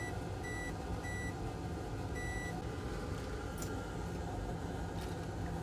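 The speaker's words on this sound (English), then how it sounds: "Meter in continuity mode, and we're gonna measure from here to here, here to here." A multimeter in continuity mode checks the solder joints of a coil on a 2005 Mercedes-Benz C240 Kompressor key fob, giving several short, thin electronic beeps in a row over a steady background hum.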